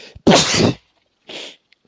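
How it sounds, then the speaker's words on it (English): Two sneezes in quick succession, the first loud and sharp, the second softer and breathier, close by with brief silence between. "Sneeze it out."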